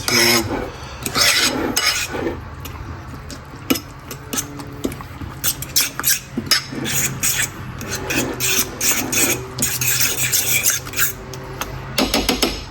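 A spoon briskly mixing burger sauce made with mayonnaise in a bowl, steady rasping scrapes and rubbing strokes repeating in quick rhythm, close and fairly loud with occasional clinks against the bowl.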